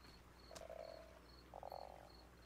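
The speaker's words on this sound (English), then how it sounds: "Oh, is it the sound of frogs?" Frogs croak in the Sons Of The Forest video game, two drawn-out croaking calls in succession over a steady ambient hum with faint high insect-like chirps.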